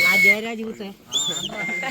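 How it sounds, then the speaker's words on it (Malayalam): A whistle gives a short, shrill blast during a school excursion, cutting through nearby excited voices that talk before and after it. "എടാ വിസിൽ ഊതിക്കാടാ"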